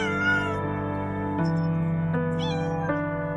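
A cat meows repeatedly during an excited reunion with its owner after three days apart, close and fairly loud, with a steady harmonic hum running underneath throughout.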